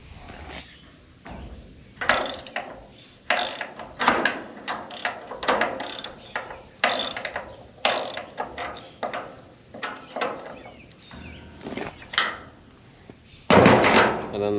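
Wrench loosening a 9/16 lock bolt on a New Holland 479 haybine, a series of close clicking ratchet strokes in irregular bursts with metallic clanks, no speech.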